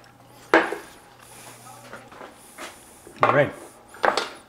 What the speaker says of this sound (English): we can go ahead and pop these in the oven